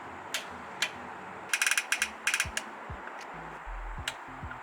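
A hand ratchet clicks in short bursts while tightening plenum bolts on a Nissan 350Z fitted with a Blox Racing plenum spacer: a few single ticks, then a quick cluster of ratcheting clicks, close and fairly quiet with some low thuds.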